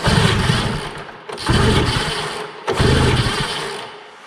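A Ski-Doo Elan 250 twin snowmobile engine, being revived after sitting and not carbureting properly, fires up and runs roughly. It surges loudly in three uneven bursts, dips between them, then fades near the end.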